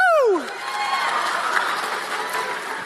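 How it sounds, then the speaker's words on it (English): A live audience at a Turning Point tour event claps steadily with some cheering, a dense wash of applause that carries through the whole moment. "I'm going to pretend you're clapping for Jesus, okay?"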